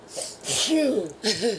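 A single close, sharp sneeze with a breathy intake, followed by a brief voiced exclamation.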